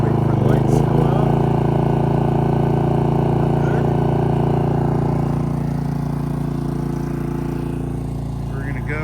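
A portable propane generator runs off a quick-connect BBQ hookup, a loud steady engine drone with a constant low hum that eases slightly toward the end.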